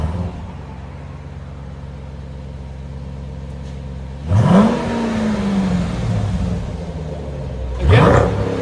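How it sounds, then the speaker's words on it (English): A 2021 Dodge Durango SRT 392 with its 6.4-litre HEMI V8 on the stock exhaust idles with a steady low burble, then revs twice in short rising roars that fall back to idle, loud and close with no talking. "we got a 2021 Dodge Durango SRT 392. This is what it sounds like before."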